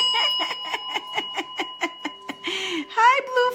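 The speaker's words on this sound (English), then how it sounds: "Let me give a little bell for that." A small handbell is rung repeatedly in a quick, even series of bright strikes with steady ringing overtones, close and clear, followed by a brief scrape and a short laugh.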